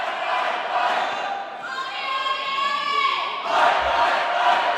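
Scotland supporters cheer and shout loudly as a continuous crowd roar in a judo arena at a school games event, swelling again toward the end.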